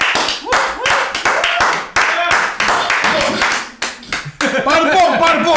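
Studio audience applause for a comedian on a comedy talk show, loud steady clapping from many hands mixed with a host shouting over it throughout.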